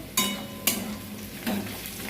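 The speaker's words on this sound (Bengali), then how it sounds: "পেঁয়াজটা প্রায় লাল করে ভাজা হয়ে গিয়েছে" Onions frying in a pan until nearly browned, a continuous close sizzle with three distinct spatula scrapes and stirs.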